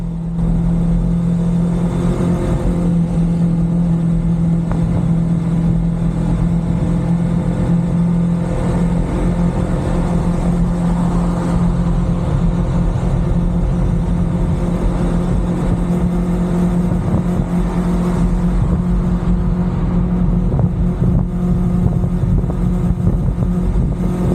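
Motorcycle riding on a road in South Central Vietnam: steady, loud engine drone with a constant low hum and wind rush, lasting throughout with no clear gaps, with no talking.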